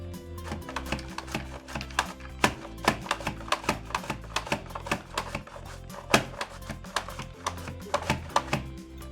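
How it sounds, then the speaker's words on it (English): Carrots being julienned on a Rapid Prep mandoline give quick rhythmic clacking strokes, repeated crisp cuts close by with an uneven tempo. No voices are heard. "now let's do some carrots. I'm gonna set it to julienne on the number 4 thickness."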